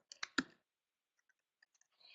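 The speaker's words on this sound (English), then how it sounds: "And I'll type that in here." Typing on a computer keyboard into a scheduling app: three sharp, close keystroke clicks in quick succession, then a few very faint, sparse ticks after a short silence.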